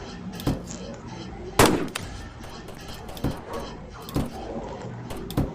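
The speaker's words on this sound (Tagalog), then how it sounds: "Gamit ako ng sniper." Sniper rifle shots in the Rainbow Friends guns mod game, several sharp separate cracks spaced a second or so apart over a low background, with a voice talking now and then.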